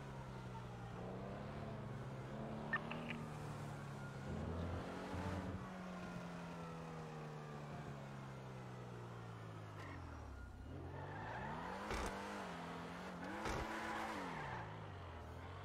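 A car driving in the video game GTA, its engine droning and shifting pitch as it accelerates and slows, steady and fairly close with a few brief bumps, no talk.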